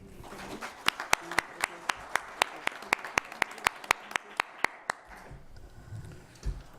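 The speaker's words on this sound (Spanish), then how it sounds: "Por favor, le damos un fuerte aplauso." About seventeen sharp handclaps of audience applause ring out in an even, slow rhythm over a quiet room murmur at an academic lecture, then stop.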